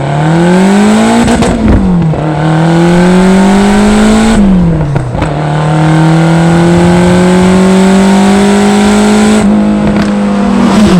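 A Lotus Esprit V8 engine revving hard, loud, climbing in pitch through repeated gear shifts with brief drops between, close and continuous.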